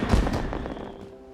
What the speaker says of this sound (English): And of course there are the fireworks shows.